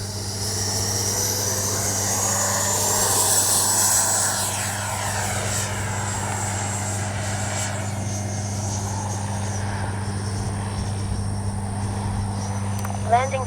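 A Freewing 80mm Avanti S V2 RC jet takes off without flaps, its ducted-fan whine loud and close, rising in pitch then fading as it climbs away over a steady background hum.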